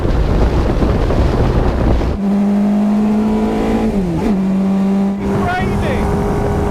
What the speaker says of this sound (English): You've got the wind buffeting